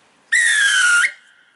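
A referee's foul-play whistle gives one long, steady, shrill blast of almost a second, loud and clear, then cuts off into a faint tail with no talk.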